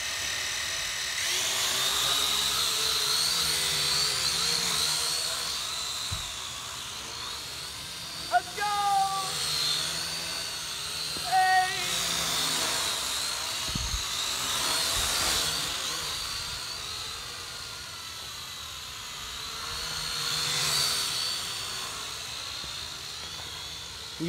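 A small drone's rotors give a steady, high-pitched whine close by as it tries to climb, with the buzz rising and falling in pitch throughout and people talking over it.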